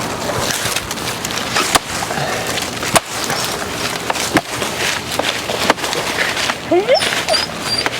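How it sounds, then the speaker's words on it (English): Dogs whimper with brief high whines near the end while someone cuts down a banana plant, amid crackling, snapping and thumping of stalks and leaves close by. "Okay, dogs want to get involved apparently"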